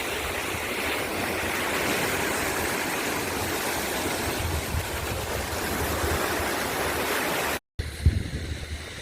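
A swollen river in Kerala rushes after a landslide upstream, a loud continuous roar of churning floodwater that stops abruptly near the end before a few faint knocks.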